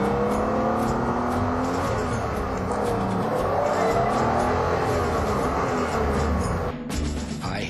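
BMW car accelerating hard in third gear on a two-lane road, a loud sustained engine roar heard from inside with rising pitch, steady throughout, briefly dipping near the end.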